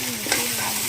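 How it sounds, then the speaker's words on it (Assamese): Brinjal and potato fry in a pan, a close, steady sizzle with scraping stirring strokes throughout and no talking. "বেঙেনা আলু ভাজি"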